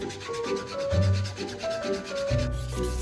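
Steady back-and-forth rubbing of 240 and 320 grit sandpaper on a wooden plate, close and continuous, with faint tonal music underneath.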